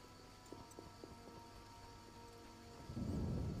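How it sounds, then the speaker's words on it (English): Steady rain pours in The Witcher video game, with a rolling rumble of thunder swelling at the end. The storm sounds faint and distant, and no one speaks. "It rains and it pours."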